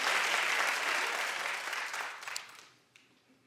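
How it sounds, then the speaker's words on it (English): A studio audience at a talk show claps in a dense, steady wave that fades out over a few seconds, with no talk over it. "Clap if you have"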